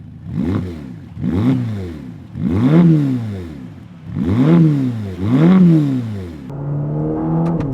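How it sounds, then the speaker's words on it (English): A high-revving Ferrari Roma engine accelerates in five rising sweeps, each gear pull climbing and dropping, then settles into a steady, buzzing drone. "Man, it has a nice sound to it though."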